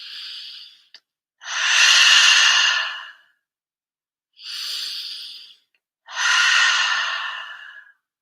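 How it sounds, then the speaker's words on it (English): Slow, deep breaths during a guided meditation: a short inhale, a long airy exhale, then another in-and-out cycle, each breath a soft, close, hissing rush with clear silent pauses between. "just breathe in and out"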